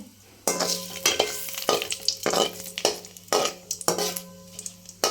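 Bay leaves dropped into hot oil in a kadai sizzle loudly, broken by a series of sharp stirring scrapes and clanks every half second or so, close and without any voices.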